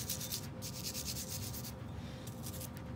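Stiff brush scrubbing a dirty pistol with Ballistol, close and continuous rapid back-and-forth bristle strokes with short pauses, heard on its own.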